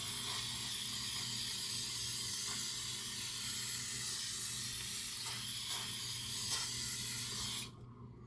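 A steady, loud hiss of olive oil cooking spray runs almost unbroken for several seconds, then cuts off abruptly, leaving quiet background hum.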